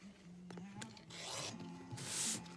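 A cutter slices through a quilting fabric block against a ruler: faint, close rubbing swishes in a few short strokes, growing into a longer scrape near the end.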